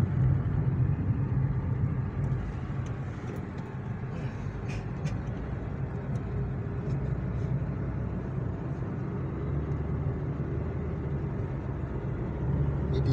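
A car heard from inside while driving gives a constant low rumble of engine and road noise, steady throughout with faint light rattles.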